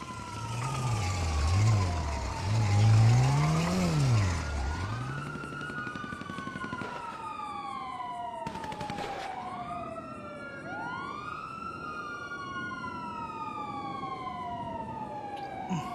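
Police car sirens in a video game, several overlapping wailing and yelping sirens sweeping up and down, loud at first and then continuing at a steady level alongside engine rumble, with no talking.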